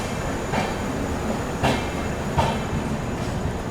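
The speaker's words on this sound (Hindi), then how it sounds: "चलिए निकल गई दोस्तों अपनी Pataliputra superfast express Lokmanya Tilak terminus से।" The Patliputra Superfast Express pulls out of Lokmantya Tilak Terminus in Mumbai: a steady, loud rolling rumble of train wagons with faint rhythmic clickety-clack of wheels over rail joints, heard from inside the coach.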